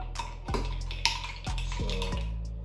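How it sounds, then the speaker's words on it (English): Chilies and mint are muddled in a glass for a chilli mojito cocktail, giving a few sharp knocks and pressing thuds against the glass, close and clear with no talk. "the chilies and the mint together, which will make it a bit flat and the juice is coming out."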